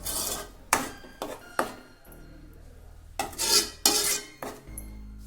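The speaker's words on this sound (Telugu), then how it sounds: "ఇలా ఒక 5 మినిట్స్ కలిపేసి" A utensil scrapes and stirs tomato chutney in a pan in a series of rough, uneven strokes, close by, with short pauses between bursts.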